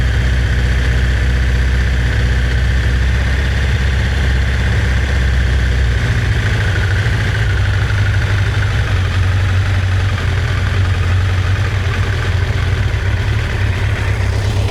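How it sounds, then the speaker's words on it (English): A cheap motorcycle engine idles close by with a loud, steady rumble, the low drone shifting slightly in pitch partway through as the idle changes. "Raising our idle is needed."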